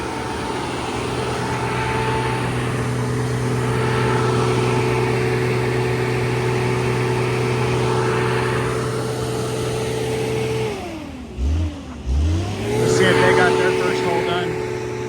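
A skid steer engine runs at a steady droning idle on a hole-drilling job, dips briefly as if loaded or throttled down, then picks back up, with occasional voices nearby.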